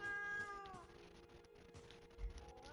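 A cat meows in Moonscars, a drawn-out, whiny call followed by softer low sounds, close and clear over a steady background tone.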